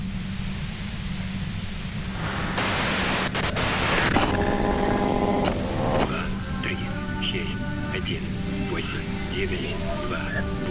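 Loud, steady hiss of white-noise static fills a scene in the video game Disco Elysium, swelling briefly into a harsher blast before settling back to a constant wash, while spoken voices sound over it.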